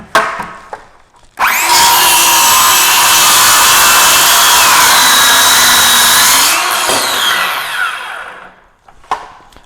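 A cordless Ryobi power saw cuts a taper into a wooden board for an outdoor bench. The saw runs loud and steady for about five seconds and then spins down, with quieter handling clatter before and after.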